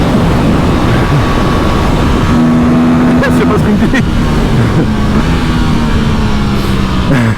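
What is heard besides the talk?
Aprilia RS 457 motorcycle engine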